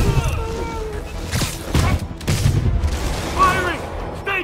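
Gunfire crackles in Marvel's Spider-Man during a street battle, several sharp bursts and impacts spread across a few seconds amid shouted combat chatter from enemies, with voices talking over the shots.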